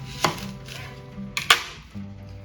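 A knife cuts into an onion on a cutting board to split it and strip the dry outer layer, giving two sharp, close chopping knocks about a second apart amid quiet handling.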